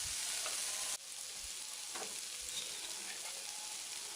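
Potato and cauliflower pieces fry with chilli powder, turmeric and salt in a pan, giving a steady close bright sizzle throughout, with a brief stir or shift near the start and a few soft clinks.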